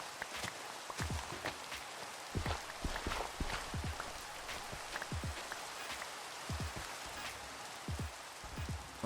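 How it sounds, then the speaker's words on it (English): Rain falls in the Minecraft modpack SevTech: Ages of the Sky, a soft, steady patter kept at a low level, broken by recurring light taps like footsteps moving over ground. "Skip this rain. I can't stand it."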